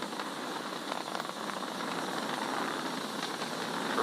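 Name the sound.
SpaceX Falcon 9 rocket engines during launch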